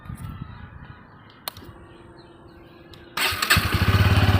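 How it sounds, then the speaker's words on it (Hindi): A Bajaj Pulsar N160 dual-channel ABS motorcycle idles with a low chugging beat, then a sharp starter click leads to a louder engine catch and a steady, throbbing run close by. "Bajaj EN160 dual channel ABS का जो इंजन साउंड है वो बहुत ही अच्छा है"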